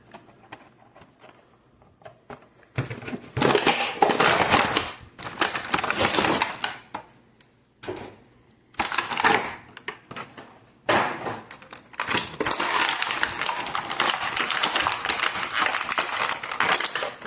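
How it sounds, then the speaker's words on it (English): Toy figure packaging being ripped open by hand, with zip ties holding the figure: long bursts of loud crinkling and tearing plastic and cardboard, broken by brief pauses, close to the microphone and without speech. "Now let's just rip her open."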